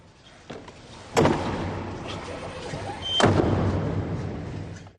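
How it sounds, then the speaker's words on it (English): Heavy doors of the Sistine Chapel swinging shut before a papal conclave, two loud resonant thuds about two seconds apart echoing through the large hall, with a faint murmur of people in between. "the doors are closed"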